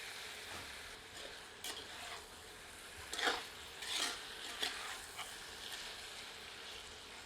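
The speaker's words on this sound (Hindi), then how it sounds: "अब कढ़ाई में चिकन सम्मिलित करते हैं। एक बार अच्छी तरह कड़छी चलाकर सबको मिला देते हैं।" Chicken is stirred with a ladle in a kadai for a chicken curry, giving a steady sizzle broken by several sharp scraping strokes near the middle and end, close and moderately loud with no talking.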